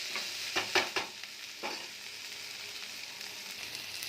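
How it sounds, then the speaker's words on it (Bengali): Chopped chili and tomato fry in a pan for dim alu chochori, a low steady sizzle broken by a few sharp scraping knocks of a spoon stirring early on, then quieter frying alone. "লঙ্কা টমেটো কুচি অ্যাড করে দিলাম। টমেটোটা সেদ্ধ হওয়া পর্যন্ত আবার একটুখানি নাড়তে থাকবো।"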